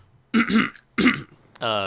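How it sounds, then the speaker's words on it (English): A person coughs and clears their throat in a few rough bursts, followed by a brief vocal sound. "Sorry for the coughing, guys."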